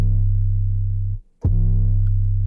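An 808 bass sample reshaped with a punchier attack and a shortened tail, a deep sustained boom that cuts off briefly and then retriggers, loud and alone.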